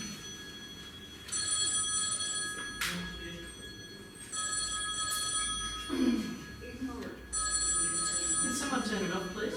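A telephone rings in repeated electronic trills, several bursts spaced a second or two apart, moderately loud across the room while people keep talking beneath and between the rings.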